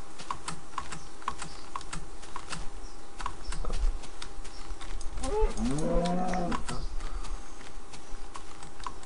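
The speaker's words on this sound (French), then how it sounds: "je vois que des vaches sont à proximité" Cows mooing in the video game Minecraft, a low drawn-out moo rising in the middle of the stretch over steady keyboard typing and soft game background noise.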